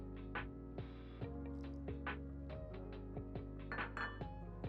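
A spatula scrapes and clinks against a bowl while stirring a liquid recipe mixture, producing steady close tapping and knocking strokes at a quiet level with no talk.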